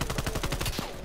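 Rapid automatic gunfire in a video game, a fast steady string of about a dozen close, loud shots that stops abruptly near the end.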